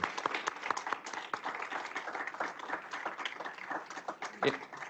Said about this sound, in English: could we have one more round of applause for all of the panelists and the speakers who were here today?